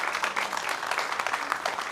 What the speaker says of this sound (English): So another round of applause for our band.